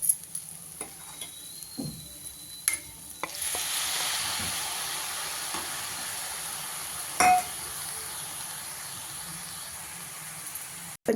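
A few clinks and scrapes of stirring in a pan come first, then chopped tomatoes going in for a curry set off a loud, steady sizzle and hiss that lasts to the end, with another sharp clink midway.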